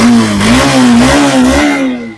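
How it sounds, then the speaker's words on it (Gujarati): A Yamaha FZ FI motorcycle with self start revving up close, a loud rising and falling engine drone with throttle blips that eases off and fades at the end, with no talking. "સેલ્ફ સ્ટાર્ટ ગાડી છે અવાજ હાવ પેટી પેક છે"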